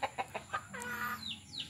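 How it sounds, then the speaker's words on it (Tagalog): A hen clucking nearby, a few short quick clucks followed by a longer drawn-out cackle, moderately faint with no talking. "Tingnan natin yung manok natin kasi panay puwak-puwak eh"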